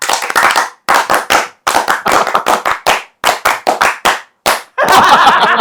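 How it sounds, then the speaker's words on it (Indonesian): Scout clapping pattern, Indonesian tepuk Pramuka, in sharp loud close-up bursts: groups of rapid claps separated by short pauses, ending in a dense flurry of clapping. "Tepuk Pramuka."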